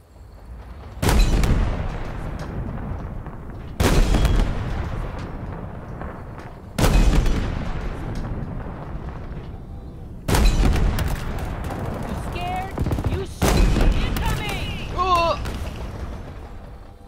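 Gunfire from Halo Infinite's campaign: five heavy, booming bursts spaced a few seconds apart, each loud and close with a long rumbling tail, and voices talking faintly underneath.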